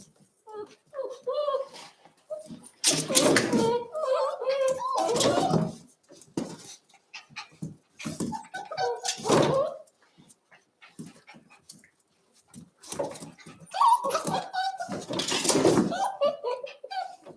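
Young puppies pant and whimper close by while a person talks gently over them, with bursts of breathy activity and short quiet gaps between.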